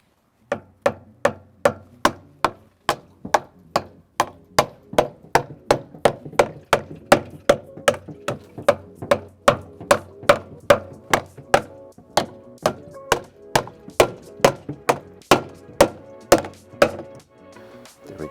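A hammer strikes steadily, about two blows per second, driving new rubber pads onto Westin truck step bars, each hit a sharp, close knock repeating for the whole stretch with no talk.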